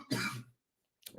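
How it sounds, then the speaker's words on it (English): A single throaty cough, close and fairly loud, followed by a pause of quiet and then a short breathy sound at the end. "I'm about to cough."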